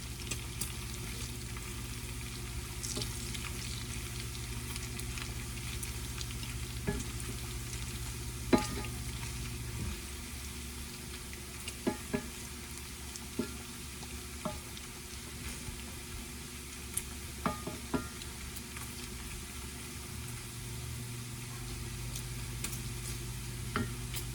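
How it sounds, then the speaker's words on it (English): Bacon frying in a pan as its fat renders, a steady dense sizzle and crackle running throughout with occasional sharp pops and the clink of stirring. "We're trying to get it to render down and get all that nice tasty fat."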